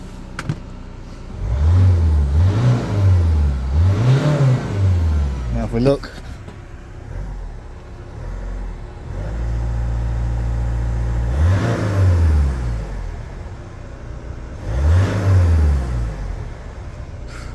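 A Peugeot Expert 2.0 HDi diesel van engine, with no timing chain noise, runs steadily nearby and rises and falls as it is revved several times, while someone talks over it.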